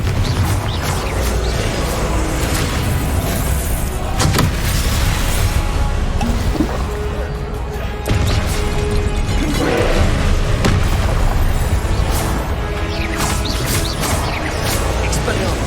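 Blasting Confringo spells burst again and again during a dense spell-combat fight in Hogwarts Legacy, with booms and crashes layered over continuous game noise while voices talk throughout.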